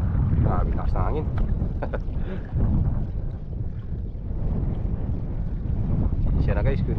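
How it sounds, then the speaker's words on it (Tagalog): Strong wind buffets the microphone with a heavy low roar throughout, while someone talks over it in short bursts. "Grabe lakas ng hangin."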